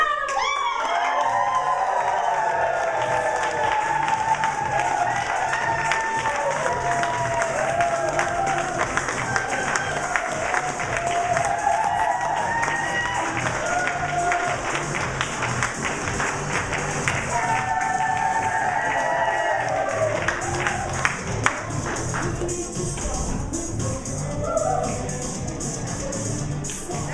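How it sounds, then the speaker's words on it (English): A live summit audience claps and cheers steadily for nearly half a minute, a dense wash of hands with occasional whoops and shouts, holding a constant loud level throughout. "I would really, really, really appreciate it if y'all got on your feet and gave Miss Denise Michaels a round of applause"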